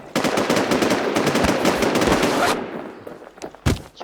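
Rapid machine-gun fire in a video game, a loud close burst of dense shots lasting a couple of seconds, then a quieter pause and a single sharp shot near the end.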